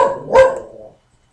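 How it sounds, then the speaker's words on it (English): A single loud, close dog bark that fades quickly into silence. "I wonder if you can all hear my dog barking in the background"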